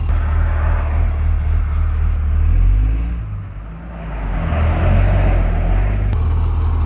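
Truck cab interior while driving in road traffic, a loud low engine rumble and road drone that swells, dips briefly and rises again as nearby vehicles pass, no talking.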